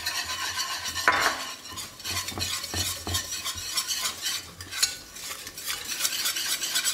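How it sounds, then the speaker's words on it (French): Butter and flour cook in a casserole pot for a veal blanquette roux, stirred without pause. A utensil scrapes in rhythmic strokes against the pot with a gentle sizzle underneath, and occasional metallic taps are heard with no voices. "Je fais cuire donc le beurre et la farine pendant à peu près 2 minutes sans s'arrêter de remuer."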